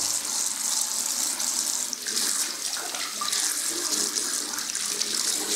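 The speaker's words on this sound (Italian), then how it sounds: "Mettiamo un po' di acqua calda" Hot water runs from a tap in a barber setting, a steady loud hissing splash that continues throughout with no talking.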